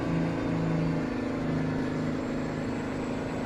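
A truck engine in American Truck Simulator drones steadily at a constant, fairly loud level with a low tonal hum, heard alone without talk.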